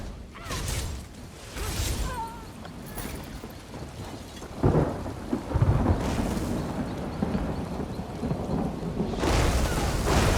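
A thunderstorm in Elder Scrolls Online, with heavy rain hissing throughout and several loud thunder cracks and rolling rumbles, one near the middle and another toward the end, no talk over it.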